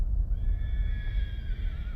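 Horses in an open outdoor setting give a clear, drawn-out whinny that rises and falls for over a second, over steady low rumbling background noise.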